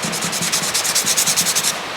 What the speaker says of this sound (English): I'm carving little designs in the skull, this cow skull.